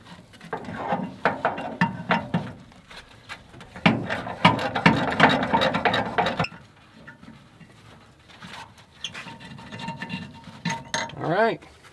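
A ratchet wrench works the brake caliper bolts loose on a Plymouth 'Cuda under restoration, giving several bursts of quick, close metallic clicking separated by short pauses.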